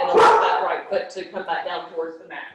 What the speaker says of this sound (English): Apologize about the dog barking.